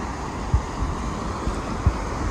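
Steady wind rushes across the microphone outdoors near the water at a Cancun resort before parasailing, a continuous blustery roar with a few low buffeting thumps and the faint wash of water.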